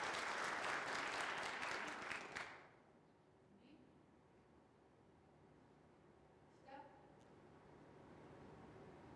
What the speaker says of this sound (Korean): 다시 한번 뜨거운 박수로 부탁드리겠습니다